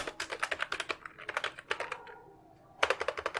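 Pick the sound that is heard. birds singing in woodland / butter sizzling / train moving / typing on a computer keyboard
typing on a computer keyboard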